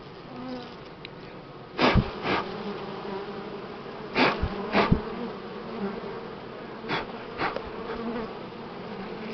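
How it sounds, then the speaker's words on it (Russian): Buckfast honey bees buzz steadily around an opened hive during a spring inspection, a dense continuous drone with several louder passes as individual bees fly close by the microphone. "Согнал пчел с канди, с лепешки."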